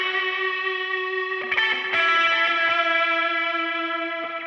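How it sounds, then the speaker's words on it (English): Electric guitar playing sustained distorted chords through reverb and delay pedals placed in an amp's effects loop, a bright harmonic wash with a couple of strummed changes and echoing tails, played alone. "So here's what it sounds like kind of in the effects loop with both reverb and delay."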